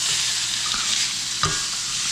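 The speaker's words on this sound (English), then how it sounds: "throw it in this hot as hell pan, and we're going to sear it both sides" Pork chop searing in a very hot pan with olive oil, a loud, close, unbroken hiss of sizzling fat with a brief crackle partway through.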